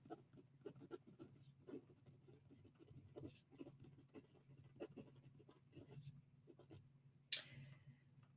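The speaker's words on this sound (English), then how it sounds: "Let's try to write that down." Handwritten notes being put down during a lecture on connective tissue, soft scratchy pen or pencil strokes in quick irregular bursts, faint and close, with a brief sharper scrape near the end.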